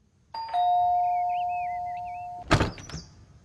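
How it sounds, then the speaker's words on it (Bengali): An electronic doorbell rings once in a quiet house, a sustained two-tone chime with a warbling melody, then a door clunks and rattles open nearby. "Kabir calling bell টিপল।"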